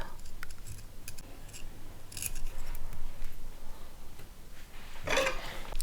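Scissors snip off loose thread ends during bead crochet with rope, giving a few sharp close cuts scattered over quiet rustling handling noise.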